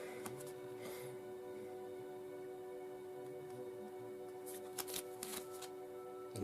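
Oracle cards being shuffled by hand, quiet riffling and sliding with a couple of brighter flurries near the end, close but soft over a steady low hum, with no talking.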